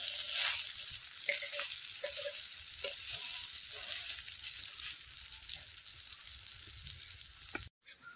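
Garlic frying for a Konkani fish curry over a wood-fired stove gives a steady, bright hiss of sizzling oil close by, with small stirring clinks scattered through and a brief dropout near the end.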